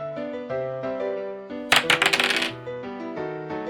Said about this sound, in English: I've got the dice sound effect coming